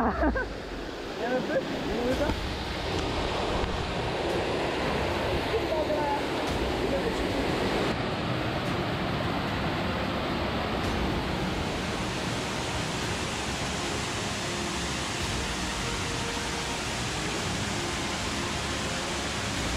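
Rushing waterfall at Mundakkai in Wayanad, a steady broadband roar of falling water that fills the whole clip, with faint voices briefly audible near the start.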